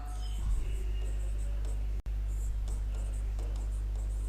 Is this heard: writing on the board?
yes